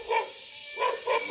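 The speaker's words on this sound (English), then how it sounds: "Dog." A dog barks three times in quick succession, short sharp woofs close up and clear, used as a note in an animal piano sequence, with no talking over it.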